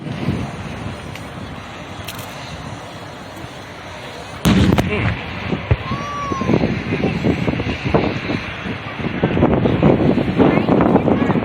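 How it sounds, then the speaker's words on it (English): An AC-130 gunship fires on a target during an airshow demonstration, producing a sudden heavy boom followed by repeated rumbling blasts and booms over heavy wind noise, with faint distant announcer talk. "Another target met with the same fierce firepower that gained the AC-130 renowned names like Spooky, Shadow, and Spectre."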